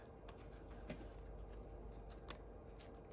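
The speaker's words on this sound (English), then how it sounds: "Let me get one more shuffle." Tarot cards being shuffled, soft faint riffling and patter with a couple of light taps, quiet and close with no voices.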